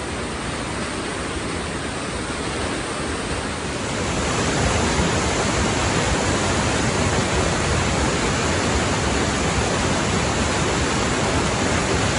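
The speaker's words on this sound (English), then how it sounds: "the sheer force of that water is unreal" A loud, steady roar of rushing water, dense and continuous, swelling a little louder after the first few seconds and holding without a break.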